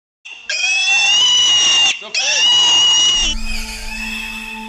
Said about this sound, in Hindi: ये सिर्फ एक सुअर के चिल्लाने का आवाज़ है।